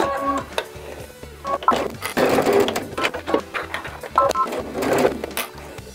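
A sewing machine stitches a 3/8 inch seam along a zipper pouch, running in repeated short bursts of steady mechanical chatter with brief pauses between runs, close and fairly loud.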